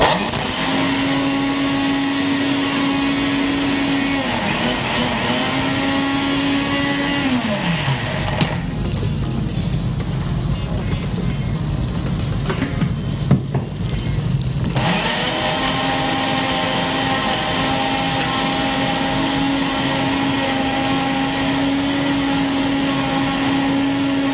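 A kitchen blender runs steadily and loudly, its motor pitch dipping and shifting midway while the load changes, then settling back to a continuous whine.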